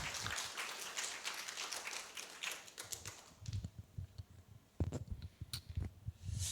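A church congregation applauds the cook after a meal, a brief round of clapping that fades quickly into scattered, faint claps and light knocks in a quiet room.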